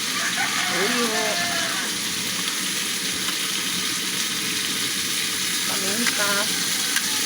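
A pan of Filipino kaldereta sizzles steadily while the food is stirred, with a close, constant frying hiss and a voice speaking intermittently over it.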